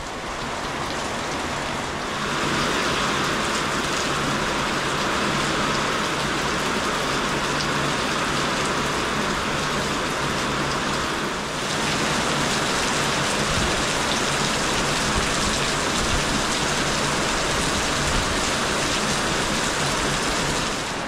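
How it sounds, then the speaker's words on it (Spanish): Heavy tropical downpour in a rural Puerto Rican setting during a power outage, a dense, steady roar of rain pounding surfaces close by, loud and continuous for the whole stretch with a brief dip near the start and middle. "¡Qué palo de agua!"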